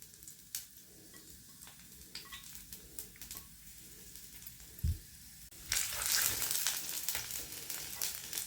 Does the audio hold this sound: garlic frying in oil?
yes